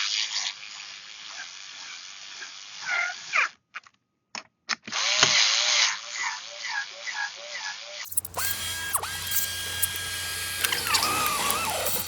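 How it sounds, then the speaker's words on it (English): A power driver whirs in short bursts, driving screws while assembling a stool, close by, with brief gaps and a change in background noise partway through. "so we just start screwing these down"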